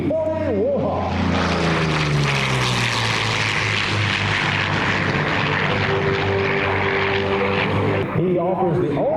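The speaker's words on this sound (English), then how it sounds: "Tom Richards right on the deck in the P-40 Warhawk." A P-40 Warhawk fighter plane flies low past an airshow crowd, its propeller engine a loud, close roar with a shifting drone, while an announcer talks over it.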